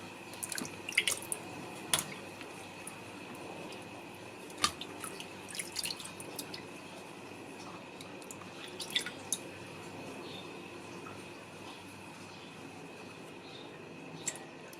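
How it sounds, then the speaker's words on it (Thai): Aloe vera leaves being washed in water for a homemade serum, with soft drips, splashes and wet squishing sounds scattered over a steady low background, close and fairly quiet, with no talking. "ล้างใบให้ดีนะคะ"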